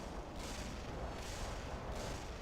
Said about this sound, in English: Oh, they have some artillery over here.